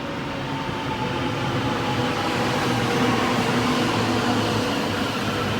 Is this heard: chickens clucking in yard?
no